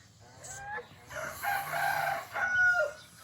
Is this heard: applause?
no